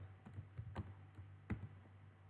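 A few quiet, irregular keyboard taps on a computer, faint and close, with two slightly louder keystrokes standing out among softer clicks.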